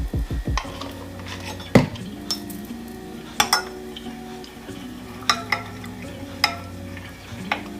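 Collagen peptide powder is stirred into water in a container, with a spoon clinking and scraping against the sides in a few sharp knocks over a low background.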